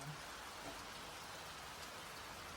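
Rain falling outdoors near a river in Rourkela, a steady even hiss of drops that continues without a break.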